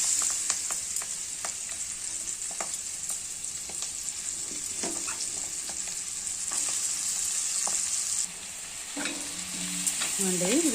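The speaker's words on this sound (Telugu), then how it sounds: "తర్వాత కరివేపాకు, ఉల్లిపాయలు కూడా వేస్తున్నాను అనమాట" Curry leaves and onions fry in hot oil with a steady bright sizzle, broken by irregular scrapes and knocks of stirring close by, for an egg curry.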